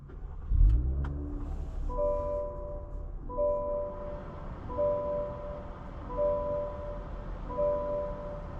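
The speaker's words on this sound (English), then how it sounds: "today we're going for a drive in this 2024 Cadillac CT5-V" A 2024 Cadillac CT5-V with a 3-liter twin-turbo V6 and 10-speed automatic driving along, its low engine hum rising and falling through repeated gear changes, with a brief thump at the start.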